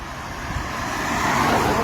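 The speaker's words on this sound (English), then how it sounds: "it's peak traffic" Peak-hour morning road traffic rushes past a street in a continuous roar of passing cars and heavier vehicles, swelling slightly louder toward the end.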